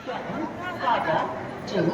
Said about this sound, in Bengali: রমরম করছে মানুষের ভিড়ে।